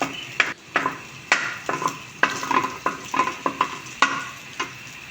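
Garlic sautés in a pan for pork menudo, giving a low sizzle broken by repeated stirring. A utensil scrapes and taps the pan in a loose, uneven rhythm, close and clear.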